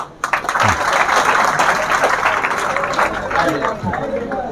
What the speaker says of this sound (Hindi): जोरदार ताली मारिए